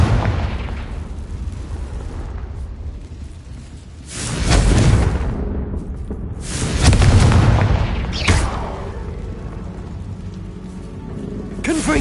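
Booming fire-spell blasts from Hogwarts Legacy, a loud rumbling burst around four seconds and another near seven, over a constant low game rumble with a sharper crack later.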